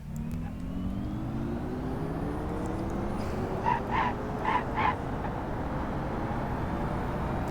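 A car in a crash-testing video game accelerates hard toward 100 to 120 miles per hour, a steady engine drone with rising whine, joined midway by a few short bark-like yelps.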